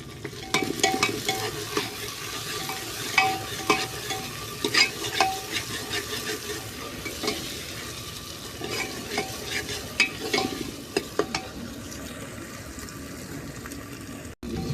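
Cut cauliflower gets its tempering outdoors in a hot pan, with a steady sizzle broken by repeated scraping stirs and clinks of a spoon. The sound is close and continuous, with no voices.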